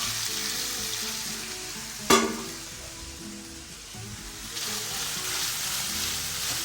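Soya chunks fry in a pan with a steady broadband sizzle, broken by one sharp clatter near the middle and growing a little louder toward the end; no voices.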